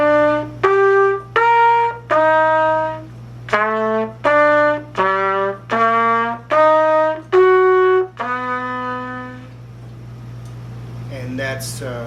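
Chords of a jazz tune played as written on a single sustained instrument, about a dozen separate chord hits in a steady pulse, each held briefly, over a low constant hum, then fading to quiet room noise.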